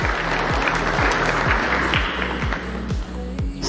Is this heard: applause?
yes